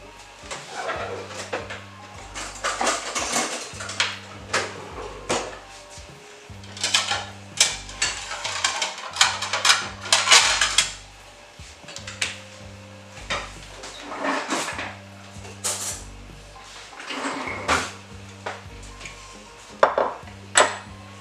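A slice of peanut butter cake being cut and served, with repeated clinks and scrapes of cutlery on a plate and soft knocks, all close, over a looping low background tune.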